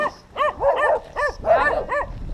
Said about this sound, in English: That's Cheyenne, the one that's barking. She's a feral dog.